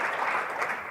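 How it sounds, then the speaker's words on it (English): Dense applause from a conference audience at a legislative preview event, a steady wash of many hands clapping together, brief and moderately loud with no voices over it. "Big round of applause."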